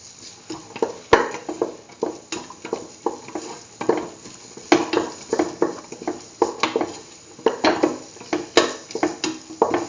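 Potato pieces being stirred with salt in a hot pan for hash browns, with repeated scraping and clattering strokes of a utensil against the pan over a steady sizzle, close and moderately loud, no talk.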